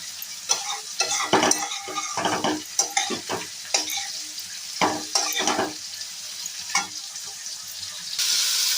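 Steamed broccoli and cauliflower fry in hot oil, a steady close sizzle broken by repeated scraping stir strokes and light clinks of a utensil against the pan, with no voices.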